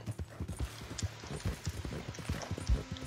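Horse hooves clip-clop in a fast, steady galloping rhythm in the Red Dead video game, close and continuous with no talk over them.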